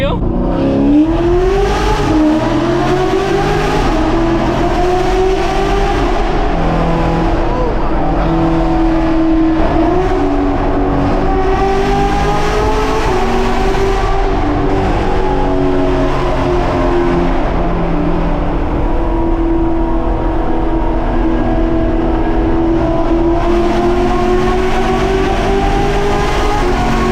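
Chevrolet Camaro SS V8 engine roaring loud and close, with rising and falling revs and sustained throaty acceleration, while excited voices talk over it.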